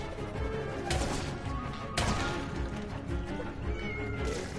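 Cartoonish cats meowing inside LittleBIGPlanet 3, repeated mews over steady game music and effects, with a couple of sharper crash-like hits, fairly loud and continuous with no talk.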